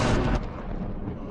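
A loud, close blast opens the moment in the Half-Life story, a heavy rumbling explosion that booms for a fraction of a second and then fades into a dense, rolling roar.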